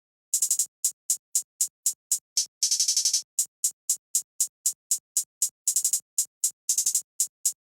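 Simple hi-hat pattern from a drum kit in a trap beat, crisp closed hats ticking in a steady rhythm with quick rolled bursts, alone and fairly quiet.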